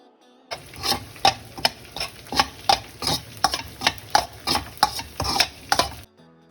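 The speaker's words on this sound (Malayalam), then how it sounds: "ഈ പാത്രത്തിൽ തന്നെ നമുക്ക് മുട്ട പൊരിച്ചെടുക്കാം" Five eggs frying in a pan, with a run of quick, regular scraping strokes over a low sizzle, close and steady for about five seconds before it cuts off.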